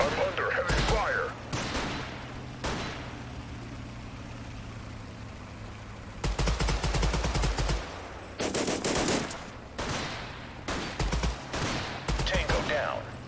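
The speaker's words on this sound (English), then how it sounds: "I'm under heavy fire." Rapid bursts of gunfire from the modern army squad-based shooter Total Conflict, loud automatic volleys recurring in clusters with quieter gaps between, over a steady low engine drone.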